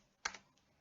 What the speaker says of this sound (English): So I'll pick the terminal and I'll type ping